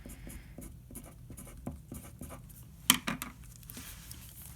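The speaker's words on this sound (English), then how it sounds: "better write this down before I forget" A pen scratches across paper in short strokes, faint and close, with a small sharp knock partway through and no talking.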